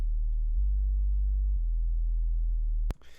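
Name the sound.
808 sub bass with 100 ms compressor release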